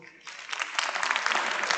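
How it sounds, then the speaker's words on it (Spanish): Light applause from an audience at an internationalization conference session, starting after a brief quiet moment and continuing as a moderate, steady patter of clapping. "Un aplauso ligero."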